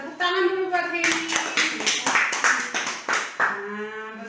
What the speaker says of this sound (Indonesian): tepuk tangan dulu buat Heni.